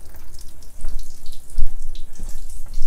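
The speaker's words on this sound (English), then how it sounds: "Right now I have it kitchen faucet on full. Let me turn that down." A kitchen faucet in an Outdoors RV 280KVS trailer runs at reduced flow, with steady close splashing and trickling water into the sink, loud and uninterrupted with no other sounds.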